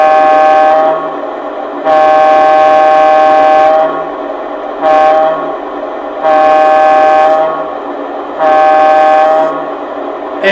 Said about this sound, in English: Here's the horn.